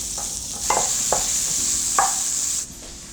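Guanciale cooking over low heat in its own rendered fat in a dry pan, a loud continuous hiss of sizzling with a few spatula strokes, cutting off abruptly near the end.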